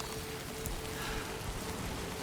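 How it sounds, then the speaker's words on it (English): Steady timefall rain in Death Stranding 2, a dense, even hiss of falling drops that fills the whole moment without pause, close and constant, with no voices. "I think there's rain. I think there's timefall, but I don't think there are BTs around here."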